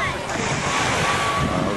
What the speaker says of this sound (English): this is the second family beach that we didn't get to